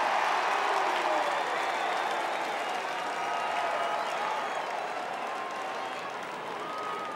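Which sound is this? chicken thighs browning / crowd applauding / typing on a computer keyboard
crowd applauding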